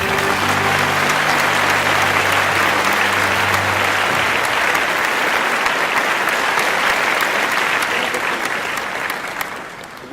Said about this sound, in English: With a huge round of applause, can we please have on stage Mr.